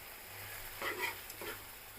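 Peas curry for a vegetarian Bengali dish sizzling softly in a pan while being stirred, a couple of brief scraping stirs over a low, steady fry, faint and close.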